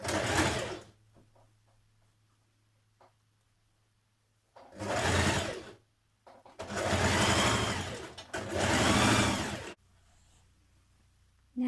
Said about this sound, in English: I'm going to stitch that seam now.